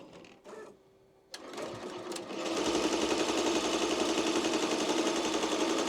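An embroidery machine stitches a design on a Mighty Hoop at 670 stitches per minute, starting after a brief pause and settling into a loud, steady, rapid whirring run that continues to the end.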